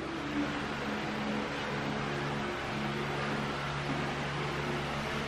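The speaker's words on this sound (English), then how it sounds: "We have a fan over there which is keeping us reasonably cool" An electric fan running in a bedroom, a steady low whirring hum under soft broadband air noise, constant and unbroken.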